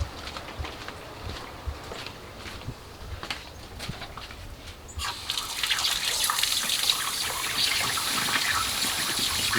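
A water tap runs into a water bottle in rainy Costa Rica, a soft trickle that swells into a steady hissing stream halfway through, with faint drips and background patter before it.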